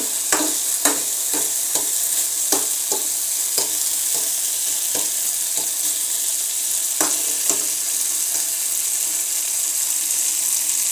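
Soybean frying while coriander, chili, chicken masala and pepper powders are stirred in, a low sizzle punctuated by a regular series of spatula scrapes and taps on the pan.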